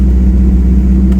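A Coyote V8 swapped into an SN95 Mustang idles loud and close with a steady low rumble, a deep even drone holding without any clear rise in pitch.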